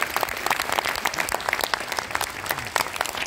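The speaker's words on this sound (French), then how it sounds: "Je vous demande de l'applaudir." Audience applause at a guided tour or performance event, steady dense clapping from a crowd throughout, fairly close and sustained with no speech over it.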